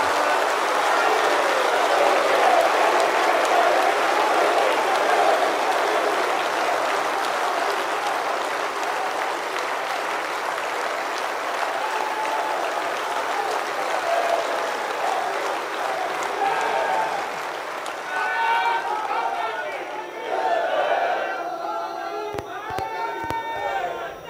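A large audience at the Indian Cooperative Congress applauding at length, a dense near roar of clapping that stays strong for about twenty seconds and then thins, with a voice speaking over it near the end.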